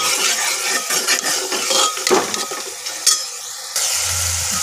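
Mushrooms frying in a pan with spices and Kashmiri red chili, steady sizzling broken by a spoon scraping and stirring against the pan, loud and close.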